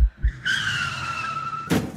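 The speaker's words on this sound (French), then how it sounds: "Il y eut un coup de frein." A car brakes hard and its tires skid in one sustained high squeal lasting just over a second, ending in a short loud burst, with low thumps just before it.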